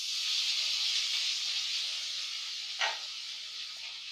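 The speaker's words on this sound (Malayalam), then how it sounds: "ചെറിയ ഫ്ലെയിമിൽ ഒരു 2 മിനിറ്റ് നമ്മളിത് വഴറ്റണം" Squid masala with chopped tomato and ground spices frying in a pan over a low flame, a soft steady hiss that fades slightly, with one brief scrape partway through.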